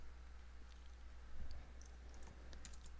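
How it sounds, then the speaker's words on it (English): Quick, light keystrokes on a computer keyboard, faint and close, in a short irregular burst over a low steady hum, with no talking. "if I type all these right"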